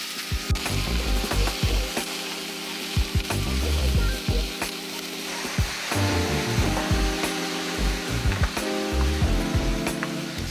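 Mushrooms fry in an uncovered pan with a steady, loud sizzle, broken by repeated scraping and stirring clicks throughout.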